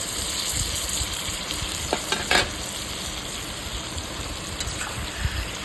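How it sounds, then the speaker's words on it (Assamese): Pork frying in a pan after salt and turmeric are mixed in, a steady close sizzle running throughout with a few brief stirring scrapes near the middle and toward the end; no one speaks. "মিক্স কৰাৰ পাছত অলপ দেৰি ভাজি ল'ম।"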